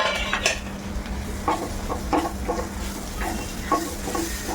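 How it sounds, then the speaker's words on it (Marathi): Gram flour and ginger-garlic paste fry in a pan, with soft sizzling under repeated scraping and stirring strokes from a spoon, close and moderately quiet, no voices. "हे चण्याचं पीठ त्यानंतर ही अद्रक लसूणची जी पेस्ट तयार करून घेतली आहे हे पण मी यामध्ये टाकून घेतलं"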